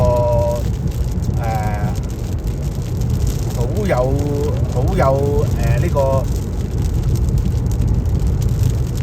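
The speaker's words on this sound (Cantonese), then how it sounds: "咁依家一場大雨就喺前面啦，好大可能" Heavy rain drums steadily on a car driving along Interstate 30 from Little Rock toward Dallas, a constant loud wash of road and rain noise with a person talking over it throughout.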